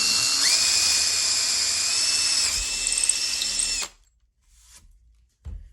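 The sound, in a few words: power drill drilling a hole for a threaded insert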